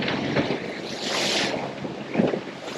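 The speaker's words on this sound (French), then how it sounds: "21 nœuds de vent de face reçus sur le bateau" A strong 21-knot headwind buffets the microphone on a sailboat over rushing water and waves, a continuous roaring gust with surges.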